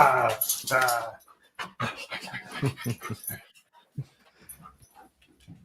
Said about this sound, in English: I get the dog all excited.